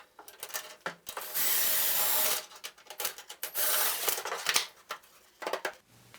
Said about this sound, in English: I'll lay out my second hose clamp and really tighten up the assembly